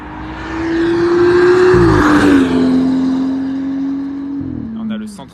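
A BMW 1 Series race car on a track sweeps past loud and close with a steady high engine drone and tyre noise, dipping in pitch as it passes and fades away.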